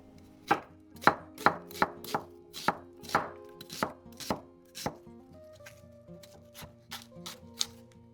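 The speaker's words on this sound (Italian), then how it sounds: "Tagliamo la cipolla." Knife chopping onion on a cutting board for a ragù alla Bolognese: about fourteen sharp, evenly spaced chops, close and crisp, with a short pause partway through and a faint tonal hum running underneath.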